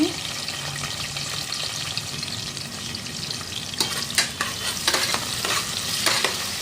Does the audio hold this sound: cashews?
yes